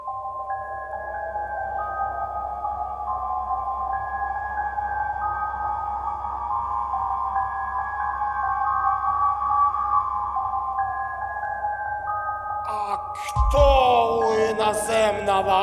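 An organ pipe blown hard by mouth gives a loud, sustained, wavering wind tone, rising and shifting in pitch, close by and alone, then breaks off into a rougher burst of noise near the end.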